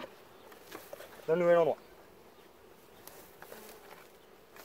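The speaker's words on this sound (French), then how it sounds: "les abeilles qui reviennent là, elles vont arriver directement" Honeybees fly back to a hive after a colony is moved into a new box. One loud, close buzz passes briefly, standing out over a quiet outdoor background while a person talks.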